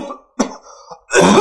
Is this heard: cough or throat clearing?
yes